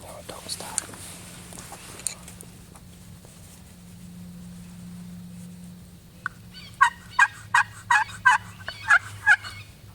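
Wild turkey gobbling repeatedly on Florida public land during a spring hunt, a rapid burst of loud, rattling gobbles in the second half after a quieter stretch of soft whispering voices.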